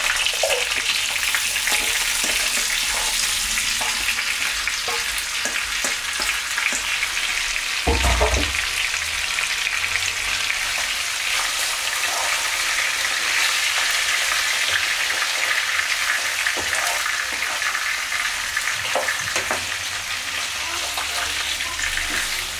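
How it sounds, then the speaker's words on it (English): Mackerel and rainbow runner fish frying in a pan outdoors, a loud, continuous sizzle with crackling bursts and a brief clatter partway through, no talking. "I'm gonna fry these then."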